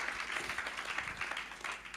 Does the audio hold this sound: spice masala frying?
no